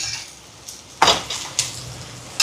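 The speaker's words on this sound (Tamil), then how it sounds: "திருப்பி விடுவோம் மற்ற பக்கம்" Parotta flipped over on a hot pan, a few sharp clatters and taps of metal against the pan standing out over a low background hiss.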